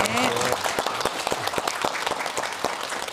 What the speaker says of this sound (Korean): 네 분 큰 환영의 박수 보내주십시오.